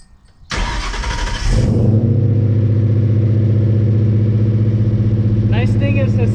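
A 1971 Dodge Challenger R/T fires up from cold: a brief cranking burst, then the engine catches and settles into a loud, steady, rumbling idle close by, with a faint higher whir near the end.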